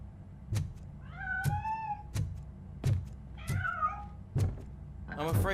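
A cat in the game Robocop Rogue City meows three times, drawn-out and wavering, between sharp heavy thuds or footsteps that come at a regular pace, with a louder cluster of sound at the end.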